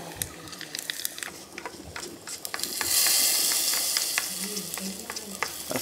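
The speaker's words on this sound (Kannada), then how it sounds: "ಸಾಸಿವೆ ಎಲ್ಲ ಸಿಡಿ ಇತ್ತು, ಇನ್ನೀಗ ಬೇವು ಸೊಪ್ಪು" Curry leaves dropped into hot oil with spluttered mustard seeds in a tempering ladle, a close sizzle that swells into a louder rushing hiss midway, peppered with sharp crackles and pops.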